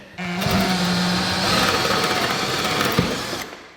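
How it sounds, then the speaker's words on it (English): Power drill boring a hole through a floor beside a heat register, one loud continuous whir held for about three seconds, close by, with a slight change in pitch as the bit punches through. "we want to drill our holes a little bit further in from that"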